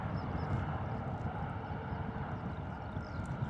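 An easyJet Airbus A320 departs Bristol Airport for Alicante, heard as a faint, distant, steady jet engine rumble with no talking.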